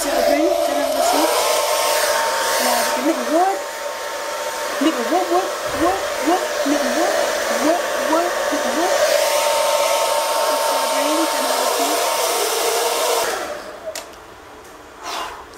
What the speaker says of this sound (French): je vais utiliser mon sèche-cheveux que voici pour sécher tout ça